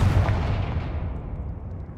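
A Confringo blasting spell explodes in a video game, a single loud booming blast that rolls off into a fading rumble.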